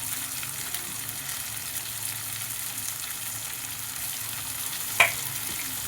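Garlic and onion fry in a pan with a steady, close sizzling hiss throughout, broken by a single sharp click near the end.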